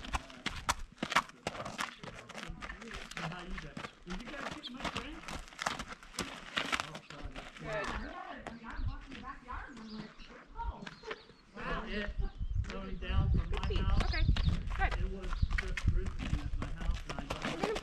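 A very thin rescued Thoroughbred horse moves about, its hooves clip-clopping in a steady close rhythm, with people talking over and around the hoofbeats throughout.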